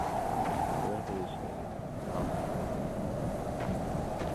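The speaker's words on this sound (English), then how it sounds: "I'm just gonna look at the ocean." Ocean waves wash steadily in a video game, a continuous broad surf roar with wind-like hiss, fairly loud and constant throughout.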